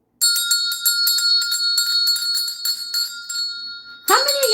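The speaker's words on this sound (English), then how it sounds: "Let's use the balancing bell real quick, you guys, since everybody is here." A balancing bell rings in a rapid series of bright, sustained metallic strikes that ring on and hold a steady tone, then a brief voice cuts in at the end.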